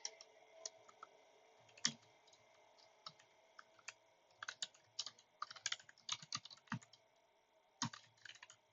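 Code being typed on a computer keyboard, a quiet, close patter of key clicks in uneven bursts, sparse at first and then quicker clusters, with no voices.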